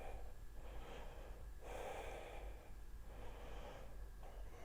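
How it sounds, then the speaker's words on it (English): Slow, soft nasal breaths during a yoga pose, drawn in and let out steadily in a quiet room, close and faint with a low background hum. "Breathing slowly and softly in through the nose. Exhaling slowly, steadily."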